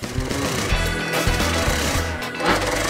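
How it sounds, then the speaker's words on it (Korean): A sewing machine runs steadily up close, stitching a handmade 100% human-hair wig to fix the hair in place. The whirring mechanical chatter is continuous and dense throughout, with no talking. "능숙한 손놀림으로 정모 작업을 마치면 고정을 위해 미싱 작업을 합니다"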